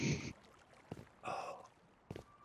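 Breathy snoring comes over a voice chat microphone in a few separate, fairly faint snorts and inhales with pauses between them.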